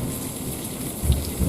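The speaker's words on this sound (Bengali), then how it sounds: "আকাশ ভেঙে বৃষ্টি নেমেছে।" Heavy rain pours steadily as a sound effect in a Bengali ghost story, a dense continuous hiss with low rumbling thunder swelling near the end, no voices present.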